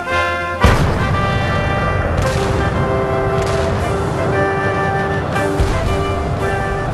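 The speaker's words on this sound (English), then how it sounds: "the thunder of cannon brought all of Paris to attention" Booming cannon fire from a salute celebrating a birth in Paris, a heavy blast followed by sustained rumbling and further distant reports over a steady, loud background.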